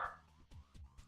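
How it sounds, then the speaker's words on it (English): A dog barks in short, soft yips, three or four quick bursts within about a second, faint and somewhat distant in a quiet room. "The dog's barking."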